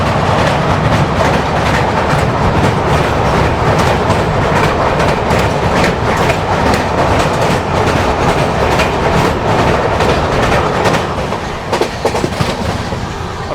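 An express train crossing the Betwa river bridge, a loud steady rumble of wheels with rhythmic clickety-clack over the rails, heard from inside the carriage and continuing unbroken with no talk.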